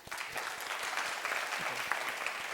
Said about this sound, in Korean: 도와주신 조문재 선생님께 박수 한번 부탁드리겠습니다